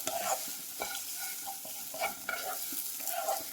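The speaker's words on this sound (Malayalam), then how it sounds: "ഇത് നല്ലപോലെ ഒന്ന് ഇളക്കി രണ്ട് മിനിറ്റ് ചൂടാക്കിയെടുക്കാം" Lentil chutney ingredients from Palakkad are stirred and heated in a pan: brisk, repeated spoon scrapes and knocks over a constant close sizzle, with no voices.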